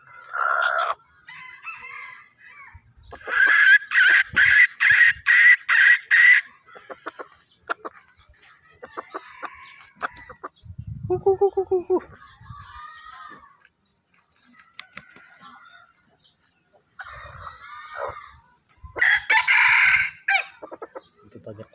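Game-fowl roosters crowing and clucking, with a loud multi-pulse crow near the start and further crows and clucks through the rest, some calls brief and some drawn out, close to the microphone with little else around.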